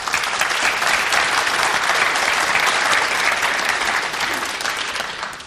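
A crowd claps steadily for a shot at a 9-ball World Cup of Pool doubles match in 2006, dense applause holding strong, then tapering slightly at the end.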